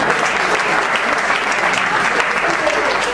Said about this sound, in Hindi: तो आप अपने लिए एक बार तालियां बजा सकते हैं।